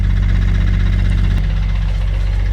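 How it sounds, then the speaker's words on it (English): A Nissan R34 Skyline, found abandoned, idles smoothly and evenly with a steady low rumble, close and loud, and no popping from the exhaust. "Like the car is idling so smooth, and even the exhaust."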